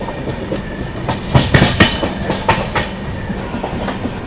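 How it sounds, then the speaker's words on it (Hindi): CR Rajdhani Express (22221, Mumbai CSMT–Hazrat Nizamuddin) arriving at Kalyan Junction, with steady rail rumble and a run of rhythmic wheel clacks over joints, loudest in the middle, no voices. "ट्रेन अपनी जो है कल्याण जंक्शन पहुंच रही है"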